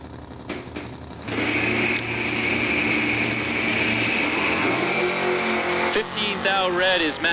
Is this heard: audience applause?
no